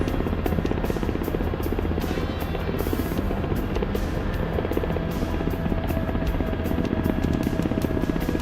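Helicopter rotor chop from a flight video game, a steady loud rhythmic thumping with engine whine running continuously throughout, no voices.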